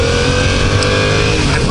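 A 2018 Yamaha MT-07 motorcycle engine revs in first gear during a test ride, a loud, steady, close buzzing drone held at high RPM throughout with no pauses.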